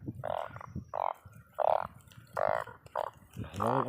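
Narrow-mouthed frogs croak in the rain near a pond, loud, nasal, pulsing calls repeating in a steady rhythm close by, with a voice briefly audible at the end.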